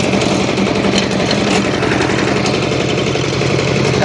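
Cultivator engine running in a field being prepared for planting, a loud, steady, close-up rhythmic chugging drone with a knocking pulse and no talk over it.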